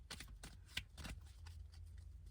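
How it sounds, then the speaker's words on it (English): Tarot cards being shuffled by hand, a run of crisp riffling bursts with a sharp snap near the start, close and steady, with no talking. "we're shuffling for this one"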